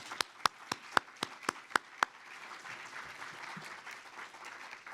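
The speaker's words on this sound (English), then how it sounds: "Can we give a round of applause to all of our speakers this morning?" Applause at an LGBTQ+ summit for the morning's speakers: about eight sharp, evenly spaced claps close by, then a soft, scattered wash of clapping from the audience.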